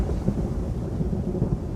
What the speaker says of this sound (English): Ariel goes to the ship and makes a tempest with wind and rain.